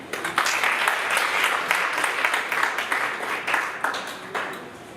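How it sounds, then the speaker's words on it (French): Dense applause from a sizable crowd, steady and loud for several seconds before thinning slightly toward the end. "vous pouvez vous applaudir"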